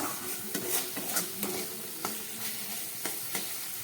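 Masala spices stirred and fried in a pan over medium gas heat, a soft continuous sizzle broken by irregular scraping strokes of the spoon, close and fairly quiet.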